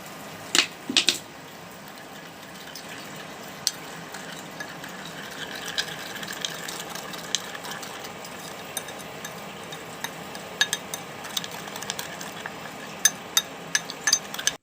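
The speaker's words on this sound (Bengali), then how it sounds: "পানি দিয়ে মিশিয়ে নেবো এভাবে মিশিয়ে নিলে মশলাটা পুড়ে যায় না" A spoon stirs ground spices, including Kashmiri chili powder, into water in a bowl, giving soft continuous scraping broken by sharp metallic clinks against the rim. No one speaks.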